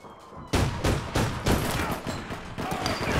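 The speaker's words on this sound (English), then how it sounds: "Who was it that was shooting me in the back?" Gunfire in the online shooter APB Reloaded sounds as loud, rapid bursts of shots in quick succession, one firing burst after another over a few seconds.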